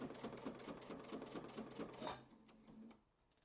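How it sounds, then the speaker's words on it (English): A sewing machine stitches a quilt block in a fast, even mechanical rattle that runs steadily for about two seconds, then slows and trails off into a quieter hum before stopping. "what I'm just going to do is stitch up so I can get the next one lined up"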